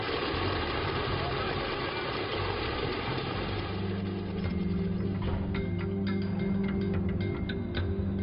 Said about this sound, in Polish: Można włączyć rozrusznik.